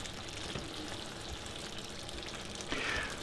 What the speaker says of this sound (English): So in goes some very nice red wine